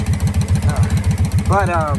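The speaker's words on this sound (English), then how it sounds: "as you can see, it's idling just fine" A Honda K24 engine swapped into a BMW E21 idles close by with a steady, evenly pulsing rumble, while someone talks over it.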